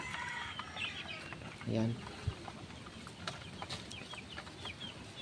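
Pet chicks feeding busily at their feeder alongside a hen, with a short burst of low clucking and scattered faint peeps and pecking taps, under a voice speaking briefly.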